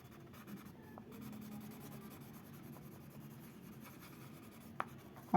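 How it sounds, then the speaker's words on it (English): Coloured pencil shading red on paper, a steady soft scratchy rubbing close up that continues throughout, with a couple of sharper taps near the end. "Upon that, we will shade it red color"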